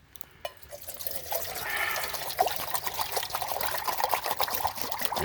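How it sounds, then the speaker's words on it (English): Water pours and splashes into a cooking pot at a trekking campsite, a steady trickling gurgle lasting several seconds at close range. "Let's throw some water in here."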